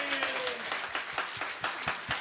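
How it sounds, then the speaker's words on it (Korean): Applause from a church congregation at a Tuesday evening lay theology meeting, a fairly faint, uneven patter of hand claps with a few sharper claps standing out, brief and somewhat distant. "감사의 박수를 올립니다."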